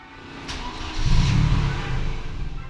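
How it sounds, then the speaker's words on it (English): A 1980s racecar engine cold-starts without throttle: a brief crank, then the engine catches and settles into a steady, rumbling idle that sits loud and close. "A cold start with no throttle."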